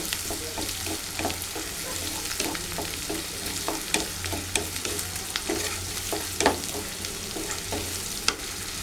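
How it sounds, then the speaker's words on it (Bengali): Onion, chili and garlic fry in a pan with a steady, close sizzle and frequent stirring clicks and scrapes. The sizzle continues without pause. "এখন আমি পেঁয়াজ, মরিচ, রসুন এগুলো ভালো করে আমি এখন ভেজে নেব।"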